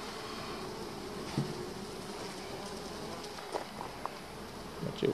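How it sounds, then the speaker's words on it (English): Bees drone steadily around a top-loading beehive, a constant low insect buzz close by. A few faint knocks and brief background noises come through over it. "Watch out for the bees."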